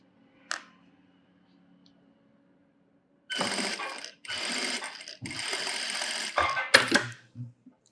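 Sewing machine stitching a blouse puff sleeve in a Tamil tailoring lesson, running in three or four close, loud bursts of a few seconds each, preceded by a single click and ending with brief clicks after the stitching stops.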